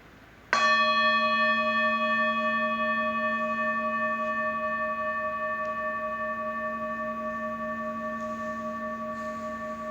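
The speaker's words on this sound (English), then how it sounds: "I'm going to sound the bell" A meditation bell is struck once with a clear, bright strike, then its pure ringing tones hang on and slowly fade through a long, quiet decay with nothing else around it.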